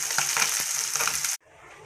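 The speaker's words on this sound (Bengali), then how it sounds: "এই যে বন্ধুরা, মাছগুলো ভাজা হচ্ছে" Small mourala, puti and bata fish sizzle in hot oil in a wok, a dense steady hiss with faint crackles that cuts off abruptly near the end, leaving quiet background.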